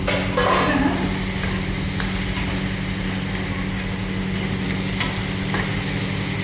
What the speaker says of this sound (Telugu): ఇప్పుడైతే టమాటాలు వేసుకుంటున్నా